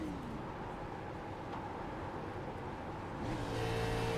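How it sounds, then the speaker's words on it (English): Simulated NASCAR pickup truck in iRacing at Texas with the engine shut off and clutch in, coasting through a corner: a steady broadband rush of road and wind noise, fairly loud, with faint tonal whines shifting near the end. "You hear the driver shut the car off, put in the clutch, coast it through the corner"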